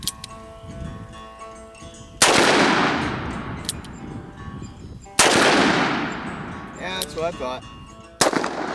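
Three sharp shots from a Colt Lawman Mk III .357 revolver fired double action, each a loud crack followed by a long ringing decay, spaced about three seconds apart with brief talk in between.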